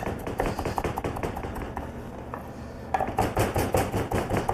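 Quick, repeated chopping taps on a board, close and fairly quiet, with a short pause before the rapid strokes resume.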